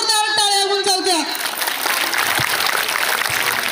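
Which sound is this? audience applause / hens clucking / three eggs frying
audience applause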